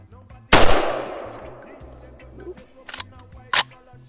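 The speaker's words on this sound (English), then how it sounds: "this is the Galil SAR version. Let's fire this bad boy up" Galil SAR 5.56 rifle firing outdoors: one sharp, loud shot with a long decaying echo, followed by a few fainter clicks and a couple of lighter metallic cracks as the action is worked.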